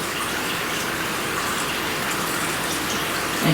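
Water pours steadily into a cooking pot for polenta, making a continuous close splashing gush with no talking.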